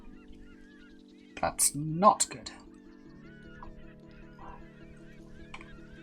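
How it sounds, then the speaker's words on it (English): Seagull calls in a music track heard while Lego instructions are being made: a few short honking cries over a steady low hum, with a voice speaking briefly. "We got seagulls."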